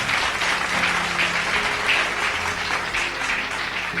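A church congregation applauds and cheers for the Holy Spirit, a steady, dense wash of clapping lasting a few seconds with no break.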